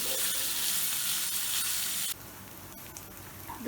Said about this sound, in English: add a little bit of oil. You don't need much. And then I'm going to add the cauliflower, which was marinated earlier.